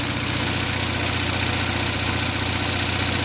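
An Onan 5CCK generator engine runs steadily at close range under load, a continuous low idling drone with a faint knocking pulse throughout and no talk over it.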